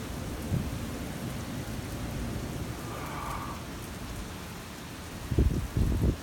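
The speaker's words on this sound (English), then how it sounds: "Nice storm though." Steady rain during a severe thunderstorm, with a soft rumble of thunder and heavier low thuds near the end, no talking.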